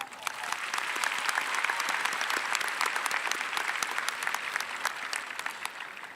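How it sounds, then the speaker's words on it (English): Steady applause from a graduation audience at Shadow Creek High School honoring special guests, a continuous wash of many hands clapping, fairly distant and even, with no voices on top. "Please join me in recognizing these special guests with a round of applause."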